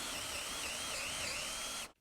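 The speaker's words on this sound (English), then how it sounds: "you're simply just going to drill" A power drill whines steadily at high speed into wood for about two seconds, then cuts off abruptly.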